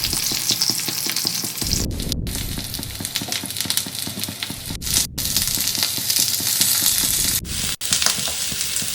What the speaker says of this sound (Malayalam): ഒരു പാനിലേക്ക് കുറച്ച് എണ്ണ ഒഴിച്ച് ചൂടായതിന് ശേഷം ഇതെല്ലാം ഇട്ട് കൊടുക്കാം